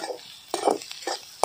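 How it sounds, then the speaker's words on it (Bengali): A spoon stirs ground cumin and coriander into a pork curry with bamboo shoot in a pan, making a few soft scrapes and clinks, with one sharper tap at the end. "ভালো করে মিশিয়ে নিতে লাগবো"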